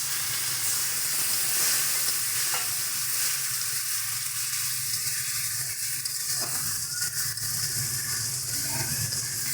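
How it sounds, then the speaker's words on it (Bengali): Spice paste being stir-fried in a wok with a little water for a cauliflower and rohu fish curry: a steady, close, loud sizzle and hissing steam throughout, with scraping stirs and occasional sharper crackles. "একটু সামান্য পরিমাণে জল দিয়ে মশলাটাকে কষাবো"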